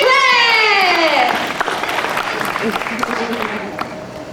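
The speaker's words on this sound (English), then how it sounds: "a big round of applause for" Audience applause at a studio backlot tour show, starting under a man's stretched, excited voice and continuing as a dense crowd clapping with scattered cheers for a few seconds.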